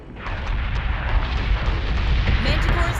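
Missiles explode against a ship in the space combat game Battlestar Galactica Deadlock, a dense, continuous barrage of deep booming rumble and crackling bursts that stays loud and close for several seconds.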